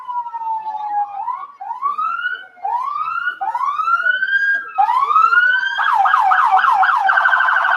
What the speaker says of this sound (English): you just keep hearing the sirens going forward at this point